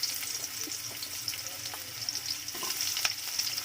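Four large roughly chopped onions frying in hot oil for chicken gravy, a loud, constant sizzle with scattered crackles and the occasional clack of stirring, close up with no talking.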